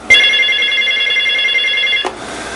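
A telephone rings with an incoming call, a steady electronic ring lasting about two seconds, loud and close, then cut off as the call is picked up.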